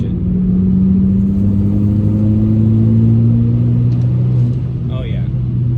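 A Volkswagen MK6 GTI engine pulls hard under acceleration, its tone rising steadily as it climbs through the revs, loud and close, with a voice talking briefly near the end.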